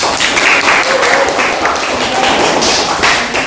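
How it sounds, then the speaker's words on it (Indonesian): Students in a classroom clap for a classmate during a Qur'an and Hadith lesson, loud close-up claps and taps mixed with a brief murmur of voices. "Tepuk tangan dulu untuk adik Ina."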